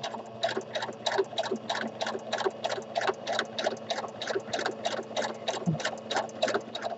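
A sewing machine doing free-motion stitching around a fabric appliqué, a steady rapid needle rhythm of evenly spaced clacks over a low motor hum, close and alone.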